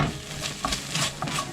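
Onions frying in a frying pan in the juices left from cooking steak, a steady soft sizzle with occasional stirring scrapes close up, no talking.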